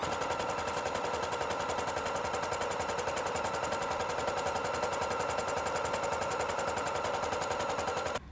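Sewing machine stitching elastic onto knit stretch fabric, a steady, loud rapid mechanical rattle running unbroken for several seconds before stopping abruptly.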